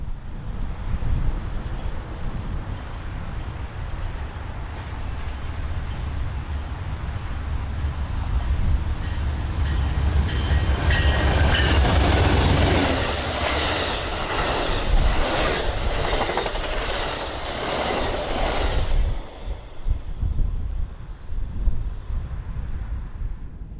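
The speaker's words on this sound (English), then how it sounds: "Thirty minutes later, the eastbound Southwest Chief was also running by on the center track." The eastbound Southwest Chief passenger train passes on the center track of a busy triple-track BNSF line, a loud rumbling roar with rhythmic wheel clatter that swells to a peak, then fades as wind buffets the microphone, with no talk.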